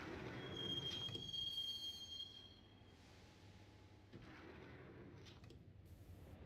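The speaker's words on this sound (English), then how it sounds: "the train doors had already shut behind me, and I was in for the ride" A subway train in the video game Max Payne rides toward a station, its wheels squealing with a sharp, sustained screech before settling into a steady low rumble of rolling rail noise, no voices.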